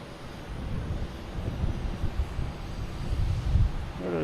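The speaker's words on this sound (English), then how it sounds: "And we have a WestJet flying over us." A WestJet airliner passing overhead at Boston Logan Airport, a low rumbling engine roar that builds gradually with wind buffeting the microphone.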